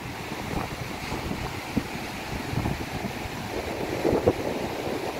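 Strong, cold wind at Praia Grande beach in Penha, Santa Catarina, a constant loud rush with microphone buffeting and surf mixed in, occasional sharper gusts.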